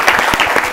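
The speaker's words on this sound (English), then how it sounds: "Let's clap for him." A quiz competition audience breaks into a short burst of dense applause, loud and close, lasting under a second.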